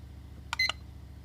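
A timer gives a start beep, a quick cluster of two or three short electronic bleeps over a low steady background hum, single and brief, with no talking.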